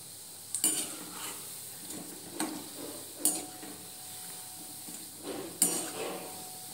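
Moong dal pakodas fry gently in oil over a low flame, a soft steady sizzle punctuated by several light clinks and scrapes of a utensil against the pan, with no talk.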